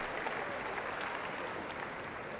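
Indoor athletics crowd at the Irish Indoor Championships roars and applauds after an Irish record 60m sprint, a dense, steady wash of clapping and cheering filling the hall for the whole stretch.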